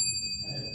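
A small bell rings to signal that a speaker's time is up at a local election candidate forum, a bright sustained ring over faint room noise.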